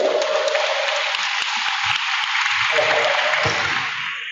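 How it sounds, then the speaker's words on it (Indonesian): A crowd applauds at an Indonesian Islamic tabligh akbar gathering of Muslim bikers in Bulukumba. The clapping is loud and sustained, with a few low thumps beneath it, and it fades slightly at the end. "Tepuk tangan dulu Pak Camat itu."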